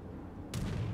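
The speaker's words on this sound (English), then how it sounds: "Okay, I'm firing le torps." A warship in a video game fires torpedoes with a sudden launch thump midway through, a close, sharp burst followed by a rumbling tail after a low, quiet stretch.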